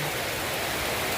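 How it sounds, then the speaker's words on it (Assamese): Heavy rain pouring down, a dense, even hiss of falling water that fills the short moment without any voices. "এতিয়া বহুত ডাঙৰ বৰষুণ দি আছোঁ দেই যাব পৰা নাই"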